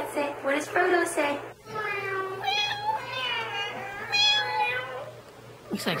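A small child imitates a cat, giving a long, wavering meow after a few quick syllables, close and clear, with a short voice at the end.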